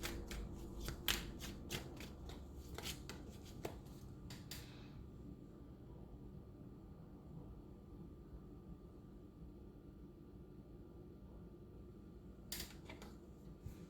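Tarot cards are shuffled up close, a quick run of crisp riffling flicks for a few seconds, then near silence, ending with a brief final burst of card snaps.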